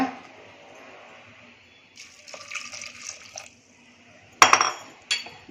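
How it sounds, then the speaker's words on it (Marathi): Water is poured into a pressure cooker holding corn kernels, short splashing pours with metallic clinks and a sharp knock of the pot, quiet and close with pauses between. "यामध्ये पाणी घालूया."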